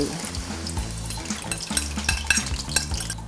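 Steady sizzle and crackle of acacia leaves (cha-om) frying in hot oil for an omelette, continuous and close, with a low musical backing underneath.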